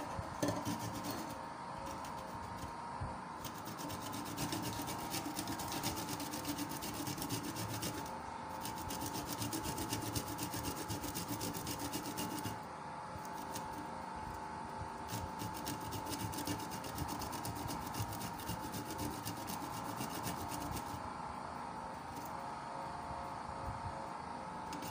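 Peeled fresh ginger being grated by hand, a steady rough rubbing and rasping that runs continuously and close up, with faint clinks of a grater or dish now and then.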